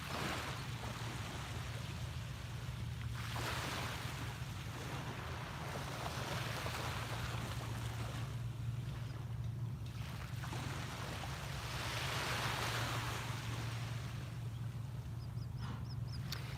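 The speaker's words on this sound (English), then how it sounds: "Soak in the view and the sound of the waves for one more minute" Ocean waves at sunrise roll in with a steady low wash, swelling and receding in slow surges every few seconds, a constant broad hiss with faint wind and occasional distant duck-like calls.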